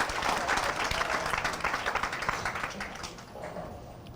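A hometown crowd at a bowling alley applauding after a shot, a dense burst of clapping that thins out and fades over a few seconds, heard inside the lanes.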